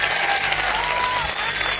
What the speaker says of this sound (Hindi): तो एक बार सारे मिलकर तालियां बजा दें